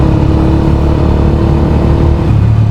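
A small motorcycle's engine revs loudly and steadily up close, its droning pitch holding then dropping near the end as a passing car joins in.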